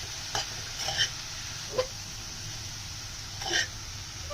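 Cauliflower and cabbage being stirred in a pan over a soft steady sizzle, with a few scattered scrapes and knocks of the spoon against the pan.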